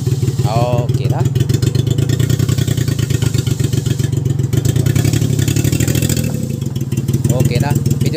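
A motorcycle engine runs continuously with a throbbing, uneven exhaust note, suggesting a misfire, close to the recorder. Voices talk briefly over it near the start and again near the end.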